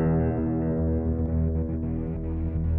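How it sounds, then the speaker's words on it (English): A sustained guitar chord with a chorus effect and reverb in Pro Tools Xpand2 rings out thick and shimmering, with a warbling doubled texture, steady and loud with no voices. "I've put an effect on, and the effect is this nice chorus"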